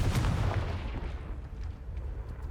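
A Confringo fire spell from Hogwarts Legacy detonates in a loud, booming blast with a rumbling low-end tail that decays steadily over a couple of seconds, with no voices.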